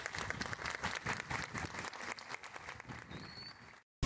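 Applause from an outdoor audience at a town parade, moderately faint and uneven clapping that thins out before cutting to silence.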